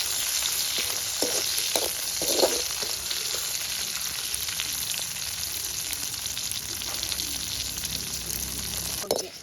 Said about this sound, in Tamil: நல்ல மிளகா பொரிஞ்சிட்டுது.